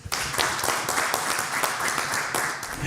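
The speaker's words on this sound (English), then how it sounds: "Round of applause for founder number 2." A crowd applauds steadily, a dense wash of many hands clapping at once that carries on without a break.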